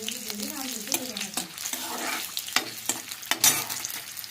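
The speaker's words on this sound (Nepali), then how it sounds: "अब म यसमा तपाईँको साग राख्न जाँदैछु भइसक्यो है साग राखिदिए" Spinach greens dropped into a hot frying pan with chili, giving a loud continuous sizzle with stirring scrapes and clatters of the utensil against the pan, with a voice talking faintly underneath.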